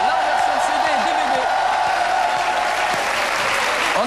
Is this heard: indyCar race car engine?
no